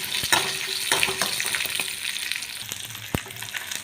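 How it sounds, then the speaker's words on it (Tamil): Small shallots sizzle and crackle in hot oil for a tomato chutney, a steady close frying hiss broken by sharp pops and a few clinks of stirring. "10-15 சின்ன வெங்காயம் சேர்த்துக்கோங்க. அதுவும் நல்லா பொரியட்டுங்க"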